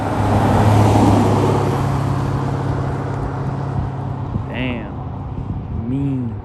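A red 2017 or 2018 Chrysler 300 drives past with a loud, close engine whoosh that swells early and then fades, while someone talks over it.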